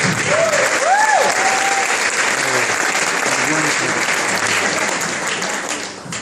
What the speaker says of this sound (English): I'd like us all to give a big round of applause to Mr. and Mrs. Cohen